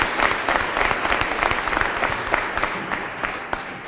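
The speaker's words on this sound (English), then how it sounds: "Please give them a round of applause." Dense, sustained applause from a graduation ceremony audience fills the hall evenly, loud and close, with many overlapping hand claps and no break.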